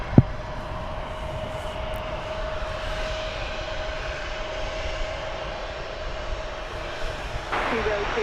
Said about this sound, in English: So we now have 4 aircraft ready to take off, or at least poised to take off, about to be joined by 2 more.